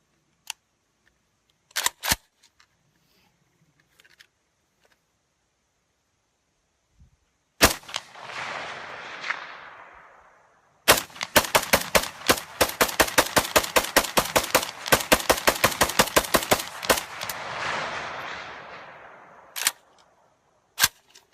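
AK-47 rifle fired with open sights at a steel target nearly 300 meters away: a few sharp isolated shots with ringing decay, then a rapid string of cracks, followed by two final lone shots.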